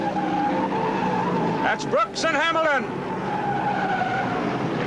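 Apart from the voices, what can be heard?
race cars skidding as traction is upset at 1971 Daytona 500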